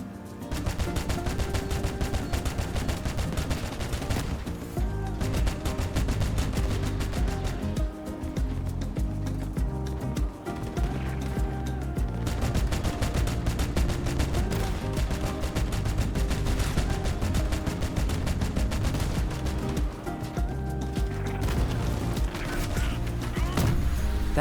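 Starfall autocannons firing in the vehicle combat game Crossout, a dense, continuous stream of rapid mechanical shots with steady rhythmic booms and clanks under game music, loud and unbroken over twenty-odd seconds.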